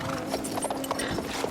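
Horse hooves clip-clop in quick rhythmic beats in Battlefield 1, a Bedouin rider's mount, with a faint whinny and ambient battlefield noise.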